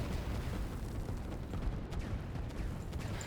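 Artillery fire in the strategy game Line War over forest terrain, a faint, dense rumble of overlapping distant booms and blasts with no clear single shot standing out.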